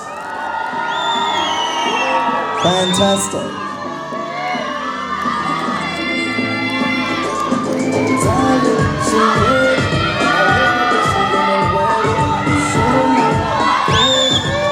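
A large pageant finale audience cheers, whoops and shouts loudly and steadily on stage-night, the roar sustained throughout with a brief spoken exclamation near the end.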